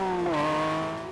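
Porsche 911 GT3 with a 4-litre flat-six engine howling at high revs as it passes, the note dipping in pitch as it goes by and fading slightly.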